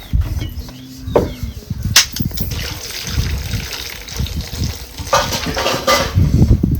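Green tomatoes cooking on a griddle (tava) for chutney produce a loud, close, watery sizzle and bubbling, with a few sharp utensil knocks and stirring sounds.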